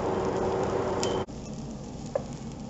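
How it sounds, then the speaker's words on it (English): Vegetables for soup sauté in a pan with a steady close sizzle, briefly interrupted by a stir or movement midway, then continuing more softly with a faint clink. "I think these are sauteed enough for my liking for my soup"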